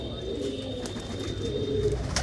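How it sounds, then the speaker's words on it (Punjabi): Several loft-kept racing pigeons give low, rolling coos in a steady murmur nearby, over a quiet background with a faint thin tone running through. "ਇਹ ਕਬੂਤਰੀਆਂ ਸਾਰੀਆਂ"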